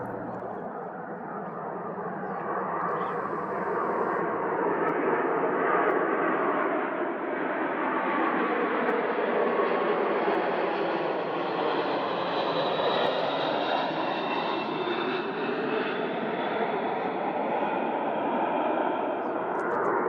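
A British Airways Boeing 747 passes about 2,300 feet overhead on approach into Phoenix at roughly 150 knots, a loud sustained jet roar that swells and carries a rising whine before holding steady.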